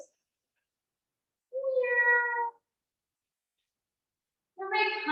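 Children imitate cat meows during a yoga cat pose: two separate voiced, harmonic meow-like calls about a second long each, the first around the middle and the second at the end, with silence between and no talk.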